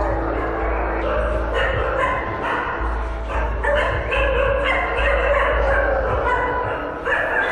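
Many caged dogs of native and foreign breeds bark together at a bungalow, a dense, continuous, loud chorus of overlapping barks and yips that lasts the whole stretch.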